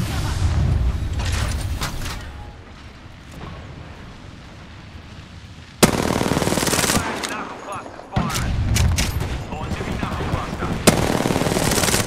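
Automatic weapon fire in the online battle royale game Apex Legends, loud rapid bursts of shots and impacts coming in several runs, with brief lulls between them.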